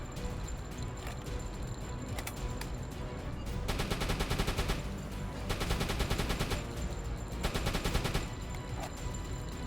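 Rapid automatic gunfire from a deck gun in the submarine game UBOAT, coming in several sustained bursts of fast, evenly spaced shots over a busy combat background.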